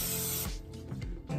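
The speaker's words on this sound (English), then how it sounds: "I have to spray." Cooking spray shoots from a can in a short, loud hissing burst, then a few quieter spurts and clicks follow, close up in a kitchen while a breakfast of egg and sausage in a tortilla is prepared.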